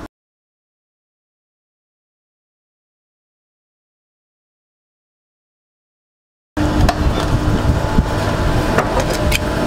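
A sewing machine stitches deep around the armhole of a blazer dress. After about six and a half seconds of silence, a steady, fairly loud motor whir starts and runs alone to the end.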